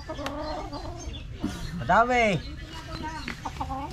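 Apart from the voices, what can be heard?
chicken clucking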